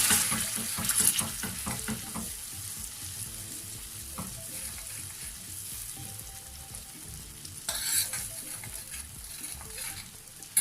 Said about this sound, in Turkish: Bunları da ilave edip hep beraber karıştırıyoruz.